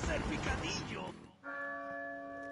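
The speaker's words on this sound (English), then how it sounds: "There you go. There's the bell." A church bell in Resident Evil 4 on PS4 sounds one clear, ringing strike after a burst of noisy game action, its tone sustaining and fading slowly to the end.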